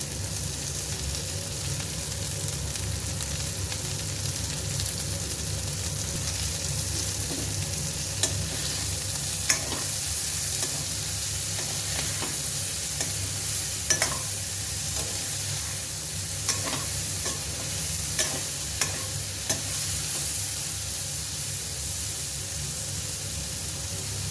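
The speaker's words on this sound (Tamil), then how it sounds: "அது நல்ல ஃப்ரை ஆகிற வரைக்கும் ஃப்ரை பண்ணிக்கலாம்" Ivy gourd (kovakkai) fries in a pan with a constant, fairly loud sizzle, while a spatula stirs and scrapes at irregular intervals, producing occasional sharper clicks; no one speaks.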